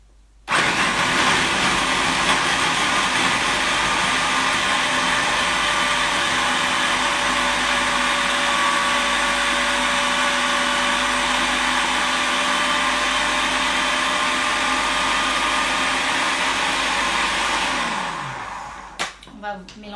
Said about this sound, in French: vous mettez 200 grammes de patates douces dans le mixeur. Alors ça va faire un peu de bruit le temps que je mixe.